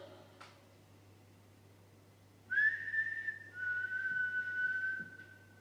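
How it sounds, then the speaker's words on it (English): One person whistling inside Shrewsbury Prison, a quiet, roomy space: after a short knock and some silence, a clear sustained whistle starts, holds, dips slightly in pitch and carries on steadily, faint background hum underneath. "Can you copy this whistle?"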